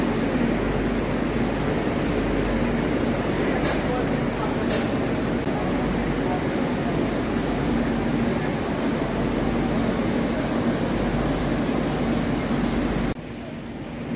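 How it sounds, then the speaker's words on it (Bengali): A passenger train pulls into platform 3 of Dhanbad Junction, heard from inside as a steady, loud rolling rumble and hum with a few faint clicks, easing off near the end. "আমাদের ট্রেন এখন এসে পৌঁছালো ধানবাদ জংশন"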